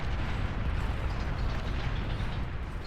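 Dense, continuous rumble of bombing-run explosions in the strategy game Beyond All Reason, blasts blurring into one loud roiling wall of noise throughout, with no talk over it.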